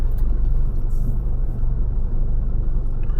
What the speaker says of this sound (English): slowly start reversing the vehicle